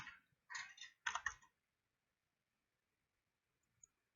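Computer keyboard typing in short bursts of rapid clicking, three quick clusters close up, then silence with one faint click near the end.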